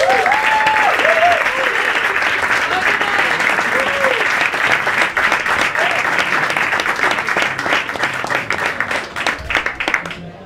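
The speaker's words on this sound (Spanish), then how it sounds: "un fuerte aplauso para Younes Chai." A comedy club audience bursts into strong applause for a stand-up comedian, dense sustained clapping that carries on close and loud, with a few voices and whoops mixed in before it thins toward the end.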